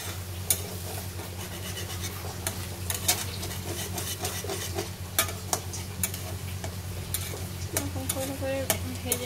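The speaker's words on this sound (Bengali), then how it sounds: "এখন এটাকে ভেজে নেব এক সাইডে করে।" An egg with oil and a little salt fries in a pan, giving a steady close sizzle while a spatula scrapes and taps the pan in irregular strokes, with no one talking.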